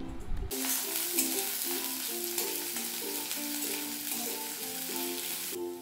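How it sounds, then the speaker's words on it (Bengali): Onions fry in a wok with a loud, steady sizzle, broken by rhythmic scraping stirs throughout. "এরপর আমি কড়াইতে পেঁয়াজ দিয়ে দিলাম পেঁয়াজ ভাজার জন্য"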